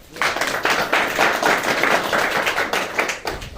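A seminar audience breaks into loud, close clapping, a dense burst of many hands with a rhythmic pulse that carries on for a few seconds before tapering off.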